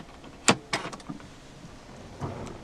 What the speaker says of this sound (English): To start the 159, insert the key fob into the slot right here.